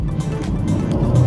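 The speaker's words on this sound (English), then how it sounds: "Got a nice little note to the exhaust there." The exhaust of a 2023 Hyundai Kona N-line rumbles low and steadily while cornering, close and moderately loud, with a slight rise toward the end.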